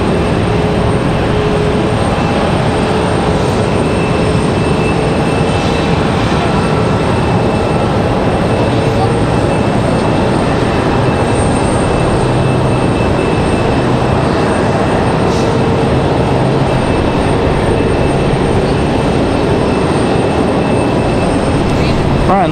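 Southwest Airlines jet at Raleigh-Durham airport: a long, steady, loud engine roar with faint tonal whine, continuous throughout, with a voice talking over it at times.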